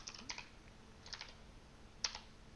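A few faint, quick clusters of keystrokes on a computer keyboard while a word is entered into a program, soft taps spread over a couple of seconds in a quiet room.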